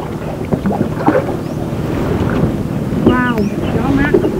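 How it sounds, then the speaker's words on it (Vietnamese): Cool wind gusting across an open fishing boat at sea, a continuous breathy rumble against the microphone, with people chattering briefly beneath it. "Wow, gió mát."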